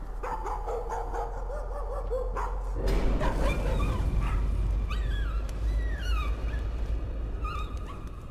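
In Layers of Fear, a dog gives a few sharp barks followed by high whining whimpers, moderately close, over a low rumbling background drone.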